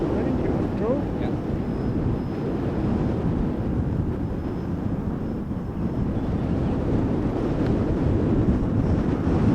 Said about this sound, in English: It's getting quite gusty now.